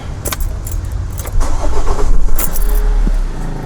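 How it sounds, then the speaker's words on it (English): Keys jingle, then a camper van engine cranks and turns over, settling into a loud, steady low rumble. "let's get the engine going"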